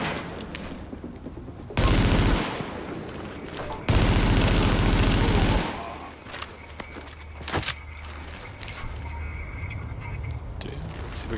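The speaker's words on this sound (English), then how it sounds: "Oop, somebody's shooting me." Gunfire bursts out in Tom Clancy's The Division, two loud sustained volleys followed by a single sharp shot, with quieter game sounds and a talking voice in between.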